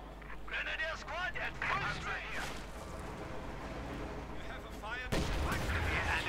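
Howitzer artillery fire in Company of Heroes 2, heavy booms and battlefield blasts mixed under a continuous game soundscape with in-game voice lines and a commentator talking over it.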